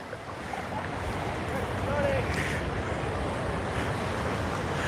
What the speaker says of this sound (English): Wind's blowing off the ocean, cool breeze.